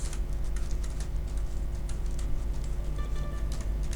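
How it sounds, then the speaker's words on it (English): Fingers typing a folder name on a computer keyboard, a fast, even run of close key clicks over a low electrical hum, with no voice. "I can just type it"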